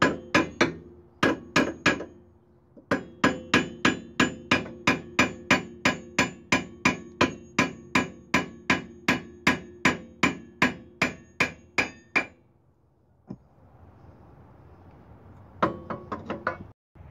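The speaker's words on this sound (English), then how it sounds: "you get your hammer and you start hitting with the arm" Sharp metallic hammer strikes on a Hyundai Sonata rear brake caliper arm, about thirty in a steady rapid rhythm, close and loud, pausing briefly before a few more blows.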